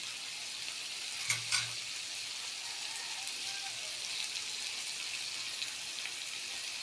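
Shredded moringa (malunggay) leaves dropped into a hot pan of frying food, giving a steady, moderately loud sizzle throughout, with a brief louder burst of crackle and stirring just after the leaves go in.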